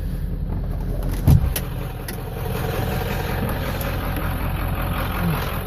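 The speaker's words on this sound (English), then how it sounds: "She sounds fairly decent on idle." A 1995 Ford Powerstroke diesel truck engine idles steadily up close, a low continuous rumble with one brief knock early on and no speech.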